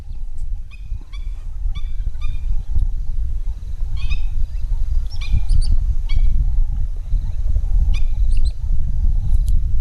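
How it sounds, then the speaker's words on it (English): Black-winged stilts calling in Botswana: repeated short, sharp yapping notes in little bursts and pairs, fairly close, over a low rumbling background of wind and distant noise, with no talking. "it looks like 2 black-winged stilts"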